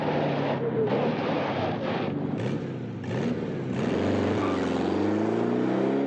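The Volkswagen Beetle Herbie drives along in a film scene with a steady close engine drone that rises and falls in pitch, with rushing wind-like noise throughout.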